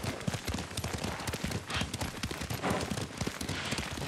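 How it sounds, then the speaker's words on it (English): Hooves of a ridden horse clip-clop steadily in the video game Ghost of Tsushima, mixed with busy background game sound and a voice over it. "Lord Sakai taught me to ride a horse."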